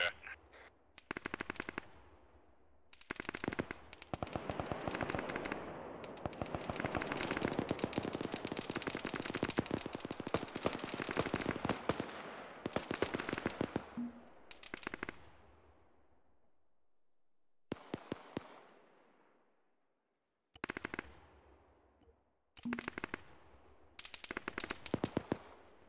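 Bursts of automatic gunfire fill a large-scale co-op battle in the military game Arma 3, dense sustained shooting giving way to separate sharp volleys with silent gaps between them, loud and close, with no voices over it.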